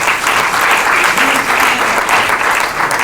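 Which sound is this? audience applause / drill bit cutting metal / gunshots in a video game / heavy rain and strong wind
audience applause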